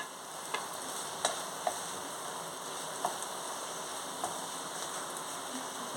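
Capsicum pieces fry in a pan for mushroom fried rice, giving a steady soft sizzle with a few sharp clicks and taps from stirring scattered throughout, fairly quiet and without voices.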